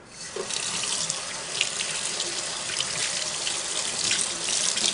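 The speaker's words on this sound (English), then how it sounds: "I'm going to rinse this off right now with water" Running water from a tap splashes steadily over the motor of a Singer Model 403A sewing machine as cleaner is rinsed off, a continuous close hiss with no talking.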